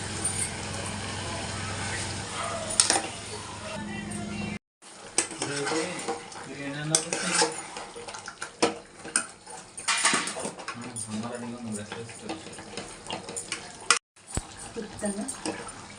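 Chicken curry cooked with a ground paste of coconut, ginger, garlic and poppy seeds is stirred in a pan: close, continuous scraping of a utensil against metal over a steady sizzle, broken by two brief drop-outs.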